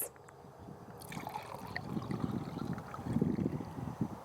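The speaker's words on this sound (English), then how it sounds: "I'm going to pour us a glass of rosé." Rosé wine poured from a bottle into a glass, a close gurgling trickle that builds and swells in brief surges before easing, heard alone without talk.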